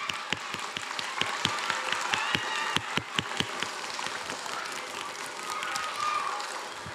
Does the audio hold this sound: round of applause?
yes